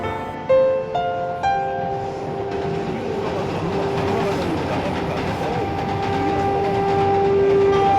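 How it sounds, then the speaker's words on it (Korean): A train on South Korea's Gyeongjeon Line passes with a rumbling roll, short horn or whistle tones sounding early and a long squealing tone building toward the end, fairly close. "김연의 할머니가 집으로 돌아가기 위해 기차를 기다립니다"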